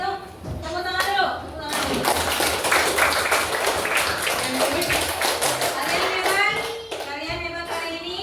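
Children clapping hands together in an elementary school classroom, a burst of many rapid, sharp claps lasting several seconds, with kids' voices heard before and after.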